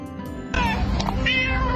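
A black-and-white tuxedo cat meows up close, a single clear drawn-out meow rising over faint room noise, with no talk.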